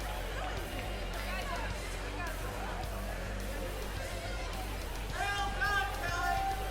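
Spectators at a girls' varsity high school water polo game chatter as a steady, diffuse crowd murmur, with a clearer nearby voice or cheer rising briefly near the end.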